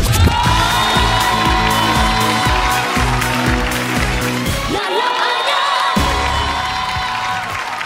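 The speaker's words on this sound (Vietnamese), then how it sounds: "Chúng ta vỗ tay cho Giang Shirley." A studio audience claps and cheers steadily at a Vietnamese TV game show stage, loud and continuous throughout, mixed over upbeat stage music.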